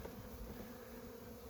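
A steady, dense hum of honey bees buzzing fills the air around overwintered mini mating nucs being opened and smoked, continuous and even with no voices.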